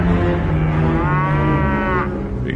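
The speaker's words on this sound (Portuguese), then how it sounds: "os bois tropeçaram." Oxen lowing as a sound effect in a biblical narration, one long deep loud moo that rises and bends in pitch, close and alone with no voices.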